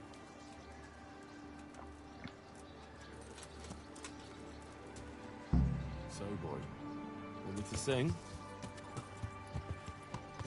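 Horse hooves clip-clopping in the medieval game Kingdom Come: Deliverance, a few soft steps with a louder cluster near the middle, while someone speaks over them and birds chirp faintly in the background.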